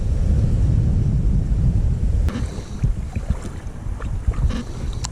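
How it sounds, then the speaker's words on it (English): Strong wind gusts buffet the microphone beside a river during a fishing trip, a steady low roar that eases slightly midway, with faint splashes and small knocks. "And that wind is kicking."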